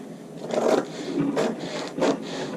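Scissors cut through a paper jacket pattern to trim out a princess-seam dart, giving three close, moderately loud rasping snips with short pauses between them and no talking.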